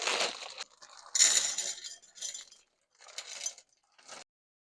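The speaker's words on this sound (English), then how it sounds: "in our pan, we're going to add one bag. It's 11 ounces of the caramel bits" Caramel bits, an 11-ounce bag, are poured into a pan in several short bursts of hard little clinks and rattles separated by silent gaps, close and with no voices.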